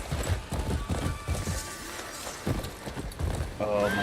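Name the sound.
horse galloping in the video game Crimson Desert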